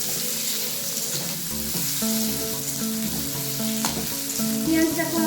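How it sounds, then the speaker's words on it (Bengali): Finely chopped onion hits a pan of frying potatoes, a continuous close sizzle with scraping stir sounds, while a repeating tonal melody plays quietly underneath. "এবার এর মধ্যে দিয়ে দিলাম কুচিয়ে নেওয়া পেঁয়াজটা।"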